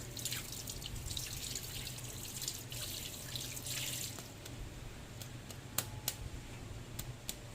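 Water drips from a strainer set inside a Tupperware container in a kitchen, quiet scattered droplets falling irregularly over a faint running-water hiss, growing sparser toward the end.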